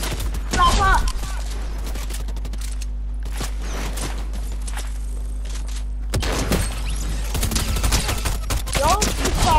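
Submachine gun fire in the Fortnite video game, bursts of rapid shots at the start and again near the end, with a quieter stretch between.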